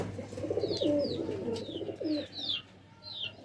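Pigeons in a fancier's loft coo in soft repeated phrases, close by, with a few higher chirps over a low steady hum.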